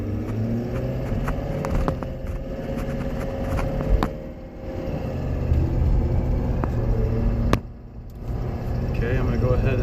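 A 2019 Ford F250 pickup with the 6.7 engine rumbles steadily from inside the cab as it accelerates up to speed, with a low continuous drone and a brief dip near the end, while someone talks over it.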